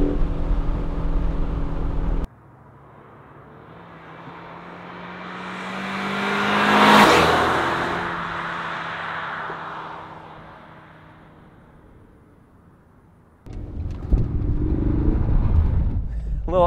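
A 2021 Ford Mustang EcoBoost convertible driven hard with the top down, its engine rising to a loud revving pass and then fading away, with wind and road rumble close by before and after.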